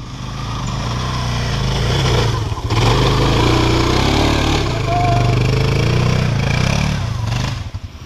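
A rally motorcycle engine roars loudly and steadily as the clutch is dumped, with a brief dip in the middle before the drone resumes and then fades, close to the microphone, with people whooping over it.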